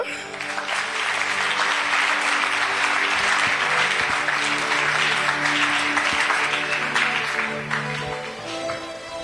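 A church congregation applauds and cheers in praise, sustained dense clapping that stays loud and steady throughout, with voices calling out beneath it.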